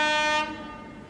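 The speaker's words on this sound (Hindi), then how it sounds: "कोई ट्रेन भी आ रही है।" Sambalpur Intercity pulled by a Santragachi-shed WAP-4 electric locomotive arriving at a station, its horn a loud sustained blast that cuts off sharply, leaving a fading ring over station rumble.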